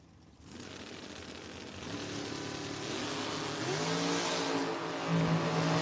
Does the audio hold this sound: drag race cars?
yes